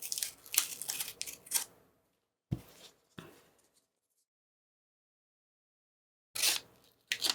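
Several short scraping and crinkling bursts as a blade slices through plastic wrap, separated by stretches of silence.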